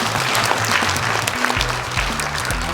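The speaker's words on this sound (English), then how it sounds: "so give a big applause" Audience at an Asia-Pacific Chinese accountants' cooperation forum claps for the event staff, a dense, even round of applause filling the room from start to finish.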